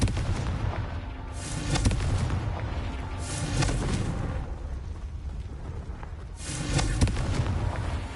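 Repeated Confringo fire spell blasts in Hogwarts Legacy go off as three loud booming bursts spaced a couple of seconds apart, each with a crackling tail over a steady low rumble.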